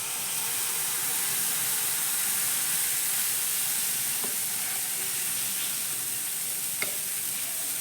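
Wheat flour batter sizzles steadily in a hot pan on a gas flame, a continuous bright hiss with a few faint clicks of stirring, no voices over it.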